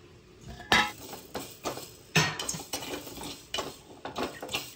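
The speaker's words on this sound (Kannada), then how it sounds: "ಎಲ್ಲವನ್ನು ಒಟ್ಟಿಗೆ ಹಾಕಿ ಸ್ವಲ್ಪ ಡ್ರೈ ಫ್ರೈ ಮಾಡಬೇಕು" Masala spices being dry-fried together in a pan for gujje sukka, a jackfruit dish, with sharp metallic clinks and scrapes of a utensil against the pan at irregular intervals, fairly close, with no talking.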